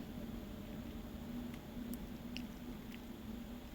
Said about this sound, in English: I add warm water and a handful of salt and then wash it